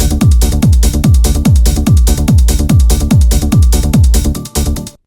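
Hard house bass in the double offbeat pattern from a remix: loud, punchy bass notes pumping in a steady split-offbeat rhythm over kicks, with no talk, cutting off abruptly at the end.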